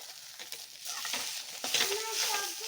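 Tomatoes frying for chicken curry while being stirred with a utensil, a close sizzle broken by scraping and clinking strokes against the pan at an uneven pace.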